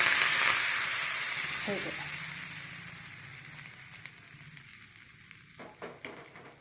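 Curry leaves sizzle in a hot tempering about to be poured over a sweet ridge gourd kootu. A bright, steady crackle and hiss is loudest at the start, then fades and thins out, with a few sharp spatters near the end.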